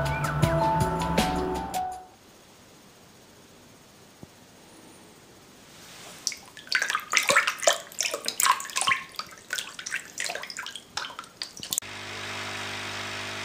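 Bubbling and gurgling worm-wee fertilizer in a bucket, aerated by an air pump, irregular bursts of frothing bubbles after a short quiet stretch, with a mechanical hum at the start and end.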